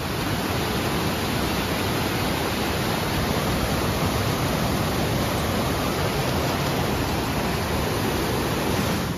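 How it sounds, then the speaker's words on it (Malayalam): Rushing water from a waterfall stream in Kollengode roars as a dense, continuous wash of noise, loud and unbroken throughout. "നമുക്ക് ഈ വെള്ളം ശക്തിയായിട്ട് ഒലിച്ചു വരുന്ന ആ ഒരു ശബ്ദം കേൾക്കാൻ പറ്റും"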